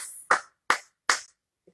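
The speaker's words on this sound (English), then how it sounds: "You might be clapping your hands." Three sharp hand claps land in a steady, evenly spaced rhythm as people clap along to a Christmas song, each clap close and crisp with silence between.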